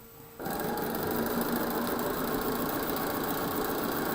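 A sewing machine stitches a seam on a Winter Star quilt block: a brief quiet start, then a steady, close, continuous mechanical whir with rapid needle chatter that runs unbroken to the end.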